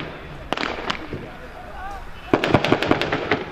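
Sharp gunshots crack out during a police college assault demonstration of a firefight between villagers and bandits, a few scattered shots first and then a rapid burst of about eight reports, heard at a distance with a narrator's voice over them.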